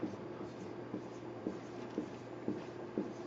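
Marker or pen writing a negative number on a board, giving a quiet scratchy stroke sound with faint regular taps about every half second, close and soft.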